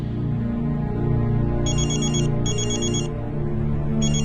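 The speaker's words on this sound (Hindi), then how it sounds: "12 बजे अंतरा के फोन पर रुद्र का कॉल आया।" A telephone rings in short electronic bursts, two rings close together then another starting, over a steady low hum.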